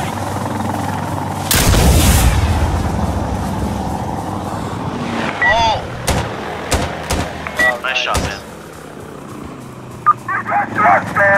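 Gunfire in the Heloshot helicopter video game, a heavy burst of shooting followed by scattered sharp shots and impacts as a helicopter is brought down, with voices talking over the action.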